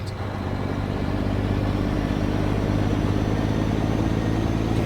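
A Mack truck engine drones under heavy load in American Truck Simulator, a steady, loud, close mechanical rumble with a continuous whine layered over it for the whole stretch.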